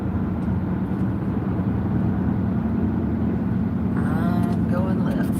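Road traffic heard from inside a moving car: a steady engine and tire rumble dominates throughout, with people talking over it.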